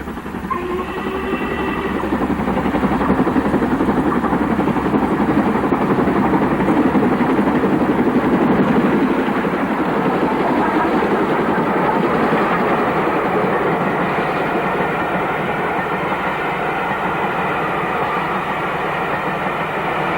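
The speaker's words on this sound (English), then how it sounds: "The Welsh marches Pullman in October 1982, with the Duchess in charge passing Saltney Junction." A preserved Duchess steam locomotive hauling the Welsh Marches Pullman passes Saltney Junction in October 1982, a loud, steady rumble of the engine and rolling carriages that holds for the whole stretch with no talk.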